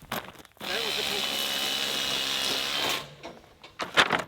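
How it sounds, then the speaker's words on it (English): A power drill bores during a Quonset hut build, one steady high whine lasting about two and a half seconds at close range, then stopping, with faint voices and clatter before and after. "This won't drill any deeper. I think it's hitting something."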